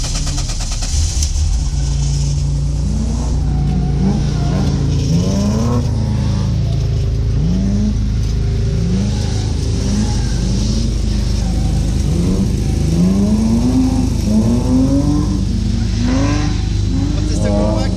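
A BMW E46 330i Compact with the M54B30 straight-six revs repeatedly while drifting, its pitch rising and falling in steady pulses throughout, with people talking over the engine.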